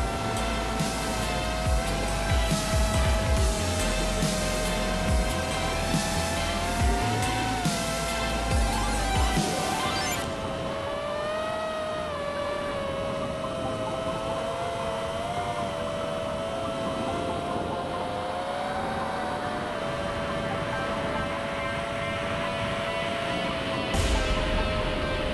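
T-28 Trojan 1100mm electric RC warbird model plane flying past with landing gear up, a steady high motor whine rising and falling in pitch as it passes, loud at first and then easing off, with no talking.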